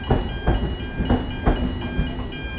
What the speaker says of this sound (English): It's quite a new train.